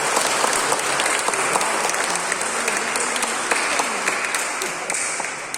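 Sustained audience applause at a church gathering, dense and steady clapping from a crowd that fills the space evenly before tapering slightly at the end.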